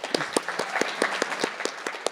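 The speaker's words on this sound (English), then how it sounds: "just give everyone a round of applause for everything we've done this year" Audience applause at a student leadership awards event, sparse individual claps in an irregular rhythm, close and moderately loud, with no talking over it.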